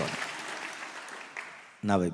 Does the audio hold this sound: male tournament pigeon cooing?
no